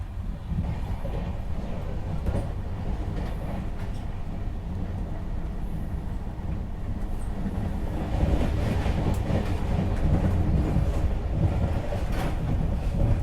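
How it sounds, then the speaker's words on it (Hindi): A Shatabdi Express train rushes past a railway crossing in India, with a loud, steady roar of wheels and rattling cars that swells near the end. No one speaks. "बढ़िया से गई शताब्दी।"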